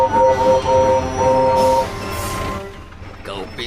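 A cartoon diesel or express train from Thomas & Friends rolls by under a loud whistling horn-like tone that sounds twice, followed by fading rumble and a hiss.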